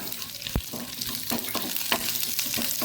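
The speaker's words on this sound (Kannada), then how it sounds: "ಇನ್ನು ಕೊನೆಗೆ ಈ ಮೆಣಸನ್ನು ಇದರಲ್ಲಿ ಫ್ರೈ ಮಾಡ್ಕೊಳ್ಳೋಣ." Dried chillies frying in hot oil for an elephant foot yam kootu, a steady crackling sizzle with a few sharp clinks and stirring scrapes of a utensil against the pan, close and moderately loud, with no voices.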